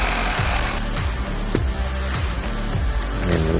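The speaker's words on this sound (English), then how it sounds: "we're going to move this nut from this positive terminal post using a size 10 socket" A rapid, loud mechanical rattle of a power tool spinning a size 10 socket on the positive battery terminal nut of a 2021 Bronco, continuous and close, with pulsing rhythmic knocks underneath.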